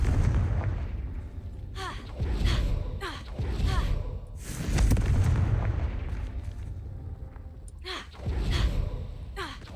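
Confringo explosion spell cast in a video game, heard as several heavy booming blasts that roll and rumble in waves, with short sharp whooshing hits between them and no talking.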